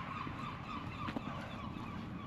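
A flock of birds calls faintly along the coast near Heysham and Aldcliffe, England, with distant honking chatter blending into soft wind and ambient noise.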